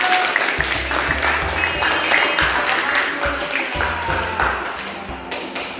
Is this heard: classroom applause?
yes